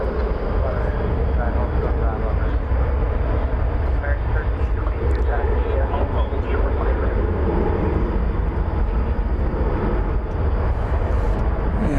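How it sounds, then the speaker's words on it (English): An American Airlines Airbus A321 arriving from Phoenix at DFW Airport gives a loud, continuous broadband jet roar, with people talking over it throughout. "We welcome American 9734 from Phoenix, an Airbus A321"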